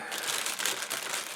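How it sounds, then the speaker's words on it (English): A plastic bag from a Marina i110 aquarium filter box crinkles as it is handled, a close, bright rustling in quick uneven bursts. "So, plastic bag."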